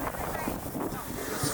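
Steady wind buffeting the microphone aboard the Liberty Belle riverboat on Disneyland's Rivers of America, a broad rushing roar with voices murmuring faintly underneath.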